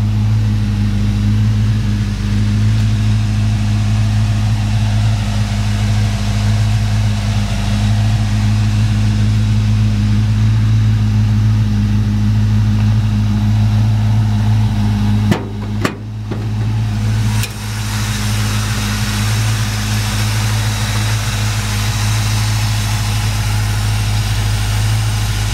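A 1956 Chevrolet Nomad Wagon with a professionally installed straight motor idles steadily and loudly up close, a deep continuous low rumble with a brief dip partway through, no talking.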